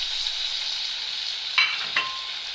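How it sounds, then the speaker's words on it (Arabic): A beef heart sizzles steadily in hot oil, with a constant frying hiss close by. Two brief clinks or stirring touches come near the end, and no one talks. "انزل بالقلب بتاعي بالمنظر ده في قلب الزيت"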